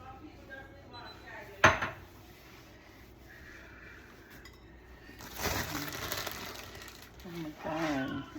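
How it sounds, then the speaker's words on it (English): Ceramic plates and cutlery clinking and clattering as empty dishes go into a kitchen sink, with one sharp clank and later scraping, close by with a voice speaking alongside. "I just put the empty plates in the sink."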